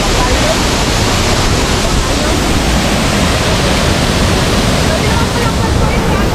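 Bolinao Falls in Pangasinan roars as a loud, steady rush of falling water, a dense unbroken wash of spray and splash heard up close with no pause.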